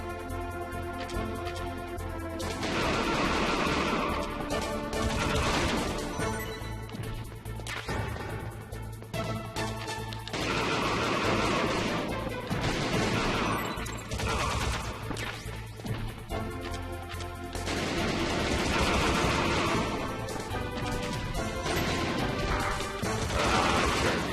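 Rapid bursts of video game gunfire and crashing impacts, loud and dense across a long stretch with brief lulls, played on a PS3 during a retro gaming session.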